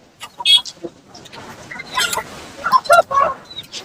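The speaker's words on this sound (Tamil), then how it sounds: "இன்னைக்கு சைஸ் சேவல்கள் வரப்ப நிறையவே இருக்கு" Roosters at a busy village livestock market in Kunnathur, Tiruppur, giving a few short crows and calls amid the crowd, with people talking throughout.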